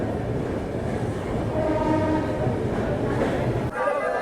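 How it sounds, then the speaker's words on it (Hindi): A long-distance passenger express on the Bihar route rolls into Gonda railway station on a foggy day, giving a steady, loud rumble of carriages and rail noise throughout, with voices mixed in. "पहुंच चुकी है हम लोग की गाड़ी फाइनली गोंडा रेलवे स्टेशन"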